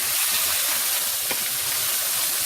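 Chicken frying in butter in a hot pan gives a steady, even steam hiss and sizzle throughout, with no one speaking.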